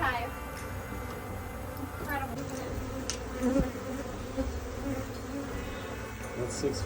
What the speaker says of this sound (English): It's a 6-foot beehive.